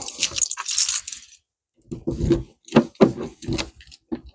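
Keys jangle loudly and close for about a second at a caravan doorway, followed by someone talking in short bursts.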